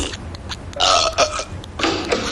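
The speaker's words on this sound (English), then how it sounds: "are you burping again?" Cartoon burping from an animated family comedy: a run of several loud, close, voiced belches in quick succession, each swelling and breaking off, with short gaps between them and no talk over them.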